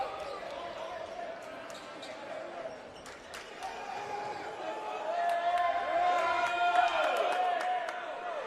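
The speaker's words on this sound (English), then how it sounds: "Crowd's upset with the long explanation." Indoor high school boys basketball crowd stirs and grumbles during a long stoppage after a foul, a steady murmur that swells louder over several seconds, with squeaking sneakers and a bouncing ball mixed in.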